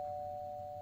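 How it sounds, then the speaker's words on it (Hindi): A doorbell sounds in a home, a single steady electronic tone held for under a second, clear and alone with no voices. "और तभी डोरबेल बजी।"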